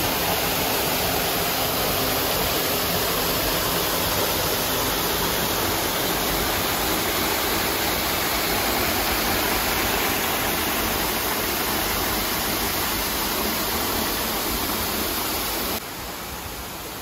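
Water pours steadily and loudly from a warm natural shower at a waterfall, a dense unbroken rush with no voices.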